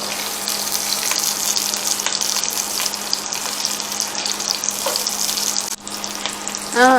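Steady sizzling and crackling of onion and garlic frying in oil, continuous and close, with faint stirring clinks.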